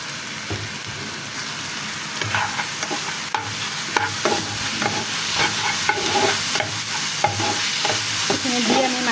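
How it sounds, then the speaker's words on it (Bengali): Minced chicken fries in a pan as a spatula stirs it, making a close, continuous crackling sizzle with frequent scraping clicks. The sound grows a bit busier after the first couple of seconds, with no speech. "এখানে আমি মাংসের কিমাটা ভাজা করে নিব যাতে কোনো ভিতরে পানি না থাকে"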